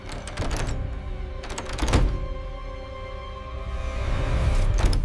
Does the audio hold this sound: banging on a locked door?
yes